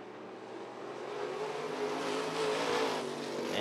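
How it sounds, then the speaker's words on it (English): Vintage race cars circle the Rockford Speedway oval, a 1979 Camaro leading into the last lap, engines droning steadily and building slightly louder as they pass, with no talk. "It's going to be smooth sailing to the checkers for that number 97 of Melchior"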